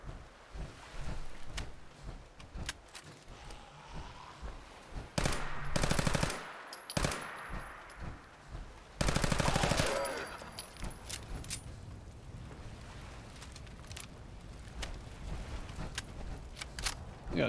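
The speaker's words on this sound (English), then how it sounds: "Alright, shots fired." Bursts of gunfire in the Fallout 4 video game, two loud sustained volleys plus scattered sharp shots over a noisy game background.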